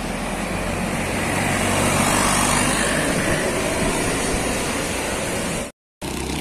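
A DMH Trans tour bus passes along a road through Ciamis, its engine and tyre roar loud and steady throughout before cutting off abruptly near the end.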